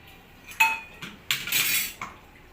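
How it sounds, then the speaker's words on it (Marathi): Leftover kitchen utensils are washed in water, giving a few short, close clinks and clatters of metal against metal with brief sloshing between them. "आपली जी काय भांडी राहिली होती ती आता आपण ह्याच्यामध्ये पाण्यामध्ये धुवून घेऊ"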